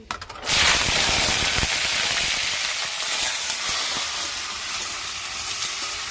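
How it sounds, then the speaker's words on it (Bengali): Pieces of pointed gourd (potol) drop into a hot pan in a village kitchen, setting off a loud, steady hiss and sizzle that surges at once and holds strong, close and constant throughout. "এখন আমি এর মধ্যে দিয়ে দেবো পটলগুলো"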